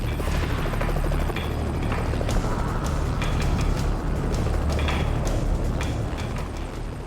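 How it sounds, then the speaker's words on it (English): A rescue helicopter hovers near a mountain ridge in freezing conditions: a loud, continuous rotor thump and turbine roar fills the whole stretch, close and dominant, with gusty buffeting and no talk. "Time after time, the helicopter is forced back."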